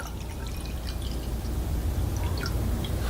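Water poured into an empty drinking glass, a steady close trickle with small splashy drips, no voices.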